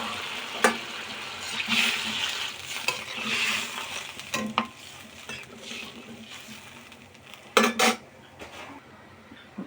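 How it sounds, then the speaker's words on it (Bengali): Water poured into a pot of potatoes cooked down with spices gives a sizzle and bubbling, mixed with a spoon scraping and knocking against the pot. "পরিমাণ মতো জল দিয়ে দেবো।"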